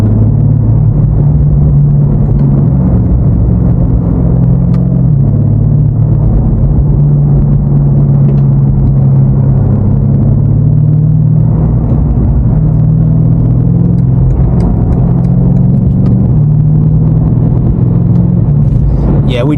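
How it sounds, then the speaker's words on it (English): BMW F90 M5 Competition idling and crawling through New York City traffic, a steady low engine rumble with soft exhaust burbles throughout, heard from inside the car with occasional talk over it. "We already got some burbles going off."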